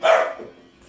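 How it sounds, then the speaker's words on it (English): A dog gives one loud, close bark that fades quickly into quiet room sound. "the dog's barking so."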